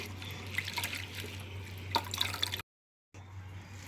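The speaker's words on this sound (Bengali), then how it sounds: "আমি দুবার ভালো করে কষলে কষলে ধুয়ে নিচ্ছি" Mint leaves are rubbed and rinsed by hand under water, giving splashes, drips and trickling up close, a brief sharper splash near the end, then a short silence before the water resumes.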